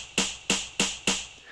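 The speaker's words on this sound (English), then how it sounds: "this classic snap sound. Here it's layered with a snare." Four crisp, evenly spaced hits of a classic house-drum snap sample layered with a snare, each a bright short crack with a brief tail, played alone and fairly quiet.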